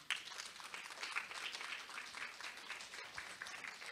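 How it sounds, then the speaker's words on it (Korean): An audience at a food and restaurant industry outlook seminar in Daegu gives continuous applause, heard faint and distant but steady throughout. "다시 한번 큰 박수 부탁드립니다"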